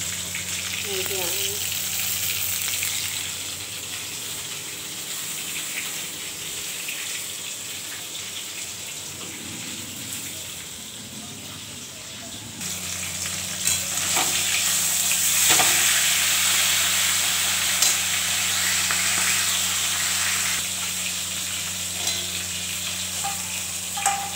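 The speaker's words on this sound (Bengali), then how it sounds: "আর হচ্ছে মাছটা ভাজা হচ্ছে।" Fish sizzles in hot oil with a continuous crackling hiss that grows louder midway, with occasional utensil scrapes.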